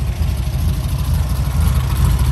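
A red VW autocross street buggy engine idles steadily at close range, a loud continuous low rumble with an even throb and no talk over it.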